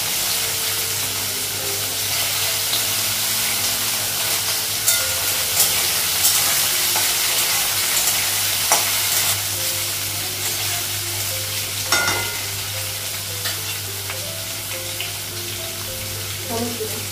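Vegetables fry and are stirred in a pan, a steady loud sizzle with occasional scraping clatter from the stirring, continuous throughout.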